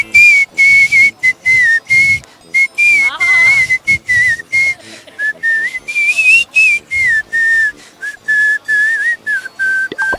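A boy whistles a melody through his mouth without moving his lips, clear high notes in short phrases separated by brief pauses, loud and close, with a quick warbling trill partway through.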